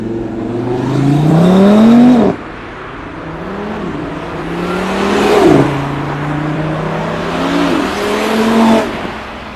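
A borrowed car's engine revs hard as it pulls away, rising in pitch in three long surges with sharp drops between, loud and close, with no talk over it.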